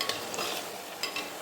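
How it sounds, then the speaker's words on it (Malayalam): Fenugreek seeds, curry leaves and green chilli frying in a pan while being stirred, a quiet sizzle broken by a few light scraping clicks, with no talking. "ഉലുവയും കറിവേപ്പില, പച്ചമുളക് ഇതൊക്കെ ഇട്ട് നന്നായൊന്ന് മൊരിഞ്ഞതിന് ശേഷം"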